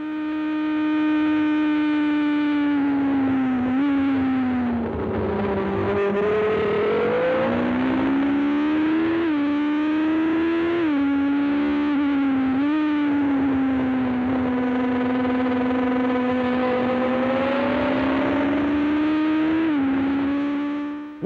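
Formula 1 car racing at speed, captured onboard Jacques Laffite's Ligier during a practice session, with a loud, continuous engine note rising and falling through gear changes and revs, no talk.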